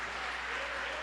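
A church congregation claps during worship, giving a brief, dense wash of applause at steady loudness with no single voice standing out.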